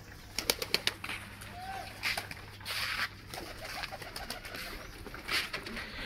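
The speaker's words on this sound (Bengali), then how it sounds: "এই দেখেন আমার দেশি কবুতরগুলো কত সুন্দরভাবে খাচ্ছে" Domestic local pigeons feeding in their enclosure make soft cooing calls, quick wing flutters and a string of sharp pecking clicks up close, with quieter rustling in between.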